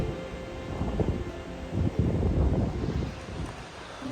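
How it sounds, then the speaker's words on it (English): Strong wind gusting across a mountain trail on the Appalachian Trail, a steady roar with louder rushing surges throughout, close and buffeting the microphone. "Got a lot of wind, as you can hear."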